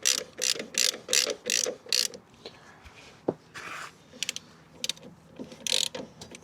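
Ratchet working a 22 mm bolt loose on the rear wheel of a Honda NT650V Deauville motorcycle, a run of quick clicking ratchet strokes followed by scattered clicks and a few clunks, close and fairly quiet.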